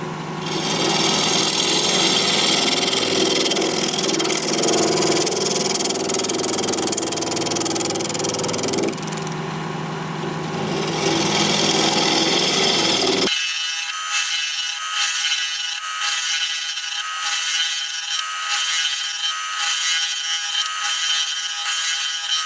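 A wood lathe spins at 1200 RPM as a 1/2 inch bowl gouge cuts a small bowl, a loud steady motor hum and scraping cut that thins out partway into a sharp, hissy shaving sound with rhythmic pulses.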